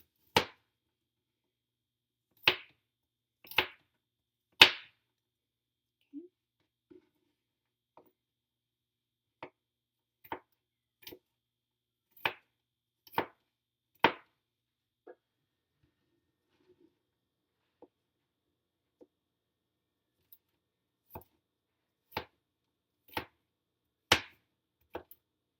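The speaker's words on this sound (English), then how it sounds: "you're going to cut or mince the garlic into small pieces" A knife mincing garlic on a cutting board for butternut squash soup: sharp, quiet taps in small irregular bursts separated by pauses, heard alone in a silent room.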